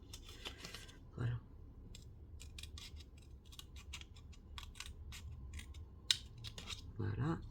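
Scissors cut a 2 mm strip from a chocolate-box card, giving quiet, close, crisp snips in an irregular rhythm, with a voice talking softly at times.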